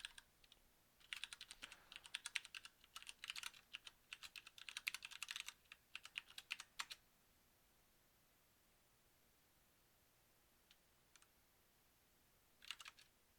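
Typing on a computer keyboard in a quiet room, with dense bursts of key clicks for about six seconds, then silence broken by a few brief, faint keystrokes near the end.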